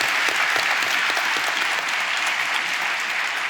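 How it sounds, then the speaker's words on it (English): An audience at a business forum in Oslo applauds Nicolai Tangen, a dense, even wall of clapping that holds steady from start to finish. "So can we give Nicolai a big round of applause?"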